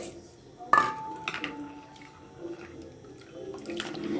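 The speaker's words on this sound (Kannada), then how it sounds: "ಅವಲಕ್ಕಿಯನ್ನು ಸ್ವಲ್ಪ ಹೀಗೆ ನೀರಲ್ಲಿ ಚೆನ್ನಾಗಿ ತೊಳ್ಕೊಳ್ಬೇಕು" Flattened rice (avalakki) being washed in water in a home kitchen, with splashing and sloshing, a sharp clink of a utensil against a vessel near the start, and soft handling sounds after it.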